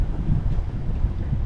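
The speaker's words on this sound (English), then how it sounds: "it is too windy" Wind buffets a microphone outdoors at an RV resort in the Florida Keys, a steady loud low rumble that keeps going with no pause and no voices over it.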